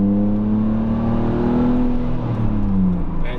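A Z4 sports car's engine revs up gradually in second gear toward about 5,000 RPM, a loud, close, steady rising drone with no talk over it.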